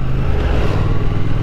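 Triumph Thruxton RS cafe racer motorcycle engine running loud and close, a steady low throbbing rumble with mild revving throughout, no voices.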